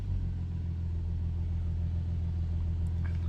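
Low, steady engine rumble from a 332 bhp Nissan 370Z, a deep continuous idle drone heard close and evenly throughout, with no voices.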